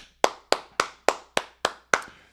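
Single pair of hands clapping seven times in an even, slightly quickening rhythm, sharp and close, each clap followed by a short decay with no talk.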